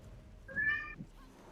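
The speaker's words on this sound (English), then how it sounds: "That's my cat." A pet cat gives a single clear meow, fairly close and moderately loud, over quiet background hum during a Blossom tournament match stream.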